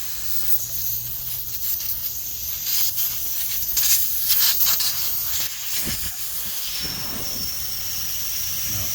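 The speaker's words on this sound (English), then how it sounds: "Now, obviously your tire is going to lose air." Air hissing out of a tire valve stem after its core is removed, a loud, continuous close hiss lasting the whole stretch with some scraping handling noise in the middle.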